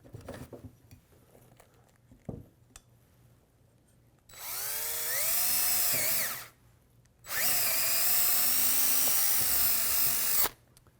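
Power drill boring holes through the layers of a prosthetic socket, heard as two close, loud sustained bursts of whining, the pitch sagging and recovering as the bit bites, with a short pause between them.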